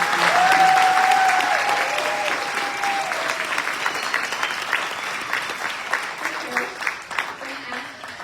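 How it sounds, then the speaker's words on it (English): Audience applause for graduates at a college commencement, a full crowd clapping with cheers and whistles at first, then thinning into scattered individual claps as it fades. "let's give our graduates a round of applause"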